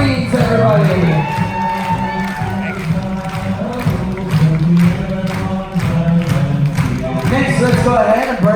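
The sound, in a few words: crowd applause and cheering for the Marines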